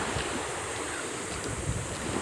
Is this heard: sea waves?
yes